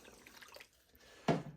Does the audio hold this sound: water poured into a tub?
yes